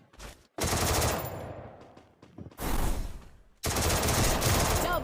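Gunfire in the battle royale game Free Fire, loud bursts of rapid automatic shots in three separate volleys with short quiet gaps between them, close and sharp.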